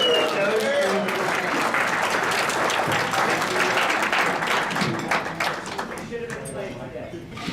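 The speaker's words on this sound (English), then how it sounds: "Let's have a huge round of applause and a toast." A crowd at a retirement dinner claps and applauds steadily for several seconds, the clapping thinning toward the end while voices murmur underneath.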